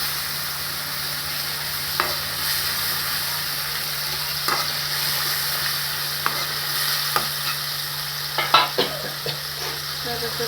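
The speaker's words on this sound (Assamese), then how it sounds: "বিলাহীখিনি সিজিবলৈ দিওঁ কেঁচা হোৱা।" Tomatoes frying in a pan for an Assamese fish egg curry, a steady close sizzle with a few sharp scrapes and clinks of a stirring spoon scattered throughout, no voices.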